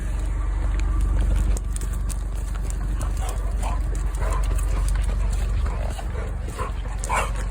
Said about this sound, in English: Hey, doggy. Hey, you can't get in the car.